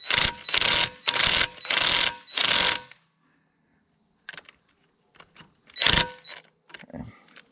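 A Suzuki V-Strom 650 motorcycle engine is run up in gear with the sprocket nut loosely fitted, giving four loud, close revving bursts back to back, followed by scattered clicks and clunks.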